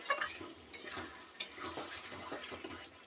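A pot of cooked, braised chicken is handled on the stove as it comes off the heat, with soft stirring scrapes, a faint sizzle and a few light metal clinks, close and steady, with no talk.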